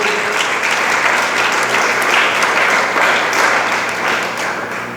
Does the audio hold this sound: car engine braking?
no